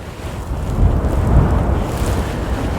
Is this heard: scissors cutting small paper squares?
no